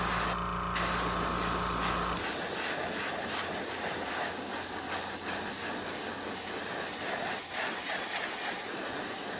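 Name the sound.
airbrush blowing air to dry lure paint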